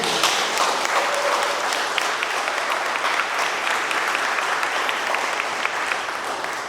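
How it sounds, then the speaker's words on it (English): Audience applause at a literary fellows' reading, a dense, steady wash of many hands clapping that keeps a fairly even loudness throughout without voices over it. "So a round of applause for all of you."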